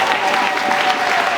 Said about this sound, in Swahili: Tukawapigia makofi wakitiwa moyo sana